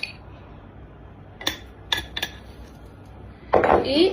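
A dull metal can opener is dropped into a dish, giving a few sharp metallic clinks and clatters close by, followed by a louder rattling scrape at the end, in an otherwise quiet room.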